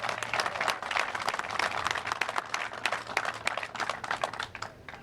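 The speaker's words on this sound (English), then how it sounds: "How about a big round of applause for Frank?" Applause from an audience at the dedication of a sports complex in Port Reading, honoring a charter member of the Port Reading First Aid Squad; dense, steady clapping fills the whole stretch and thins slightly toward the end.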